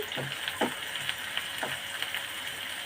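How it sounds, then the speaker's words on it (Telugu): Steady soft sizzling of something frying in a pan, with a few light stirring scrapes over the constant hiss. "ఇది బాగా వేయించుకుందాం"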